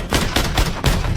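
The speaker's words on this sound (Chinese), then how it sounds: "便被科特开枪击毙" Gunfire in an action movie scene as an agent shoots down a terrorist: three loud, close, rapid bursts of shots in quick succession, with no talking.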